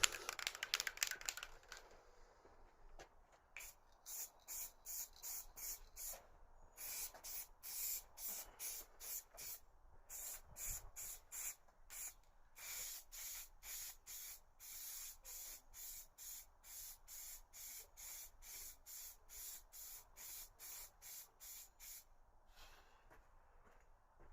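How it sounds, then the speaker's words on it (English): Rapid bursts of spray paint hiss in a steady stuttering rhythm as speaker casework is sprayed outdoors, each short blast separated by brief gaps, close and fairly loud with no voices. "So we're now spraying this outside today."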